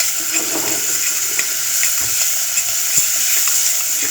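Onions sauté in a pan for village tarhana, giving a steady, bright hiss of sizzling with faint scattered crackles and no talk.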